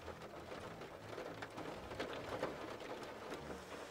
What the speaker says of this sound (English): The rain. Sounds like it's hitting a tin roof.